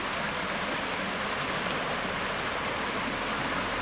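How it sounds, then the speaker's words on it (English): Fast-flowing river water during a flood, a dense steady rush of broadband noise, constant and even with no voices over it. "Now, the water is fast flowing downstream."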